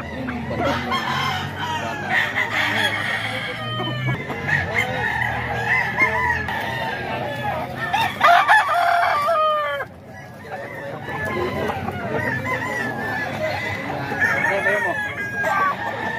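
Roosters crow repeatedly amid clucking fowl and a busy crowd at a market selling chickens, with voices talking and haggling throughout.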